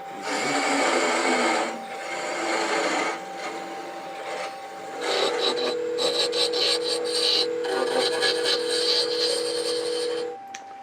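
A wooden spin top is chamfered on a spinning lathe, giving a loud sustained rasping cut with a steady whining tone, pausing briefly and resuming in choppy bursts before stopping near the end.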